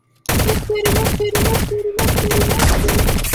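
Rapid automatic gunfire from a weapon in the online egg-shooter game Shell Shockers, loud and close, in several sustained bursts with brief pauses between them.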